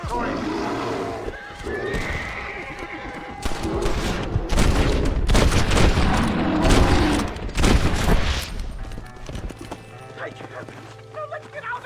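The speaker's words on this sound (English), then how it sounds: "The bear! Shoot it! Shoot it!" Gunfire from the Red Dead Redemption game aimed at a bear, sharp shots and bursts mixed with horse whinnies and hooves, loud and busy, with voices speaking over the action.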